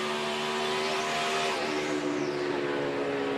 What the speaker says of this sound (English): You hear the engine kind of rev up and change sounds.